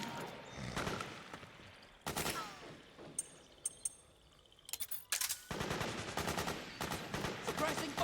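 Bursts of automatic gunfire crackle through a Metal Gear Solid 4 battle, loud rapid volleys separated by quieter gaps with scattered single shots, then sustained firing toward the end.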